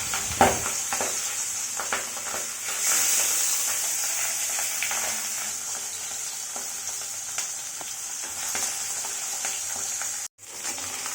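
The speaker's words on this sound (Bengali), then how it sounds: "এরপর ছেলের জন্য পাবদা মাছ ভেজে দিচ্ছি" Two pieces of pabda fish fry in a pan with a steady, loud sizzle and occasional crackles and stirring clatter, ending in a brief sharp drop near the end.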